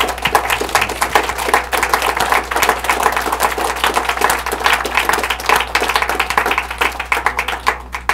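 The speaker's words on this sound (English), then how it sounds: "Maybe we can give him a round of applause for being so awesome." An audience at a talk on fighting sports and recovery from adverse childhood experiences gives a long, dense round of applause, with many hands clapping loudly and continuously throughout.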